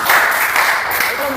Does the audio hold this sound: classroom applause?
yes